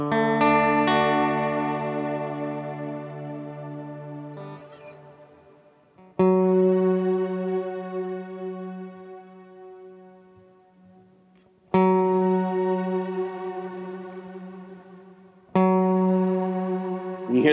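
Guitar through a Strymon Cloudburst reverb pedal with modulation turned up, four sustained chords each swelling into a shimmering, wavering wash that slowly decays, played alone without talking.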